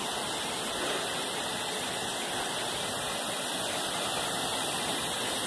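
A waterfall roars in a continuous, even rush of broadband noise, steady and enveloping with no pauses.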